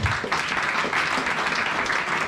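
A church congregation applauding together, a steady wash of clapping that holds at an even level through the whole stretch with no clear pauses.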